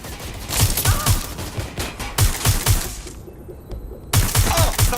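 Rapid automatic gunfire in the video game Watch Dogs Legion, loud close bursts of shots in a fast rhythm that break off briefly near the end before resuming.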